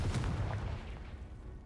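A Confringo fire spell blast in Hogwarts Legacy, a deep booming burst with a rumbling low tail that fades over under two seconds.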